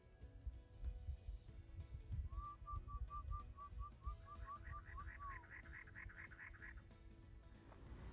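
A man whistles a rapid series of short notes that repeats, then a bird answers with a higher chirping series, faint against a low rumbling background.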